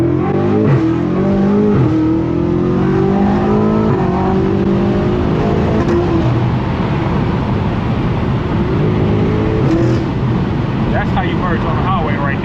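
A BMW car accelerates and merges onto a highway, its engine rising steadily in pitch under a constant road roar, with someone talking over it throughout.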